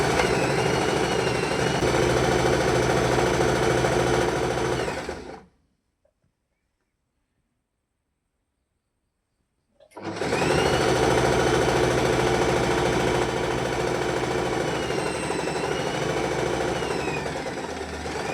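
A sewing machine runs a pant side seam in two long continuous stretches of loud, steady whirring motor hum, broken by a few seconds of total silence in the middle.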